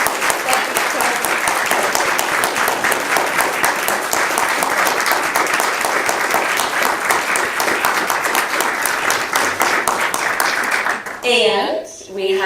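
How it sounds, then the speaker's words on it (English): A large audience gives a long, loud round of applause for a speaker at an event, with dense steady clapping for about eleven seconds before it breaks off into a voice at the end. "Can we have a huge round of applause for Richard Austin?"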